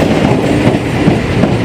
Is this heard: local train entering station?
yes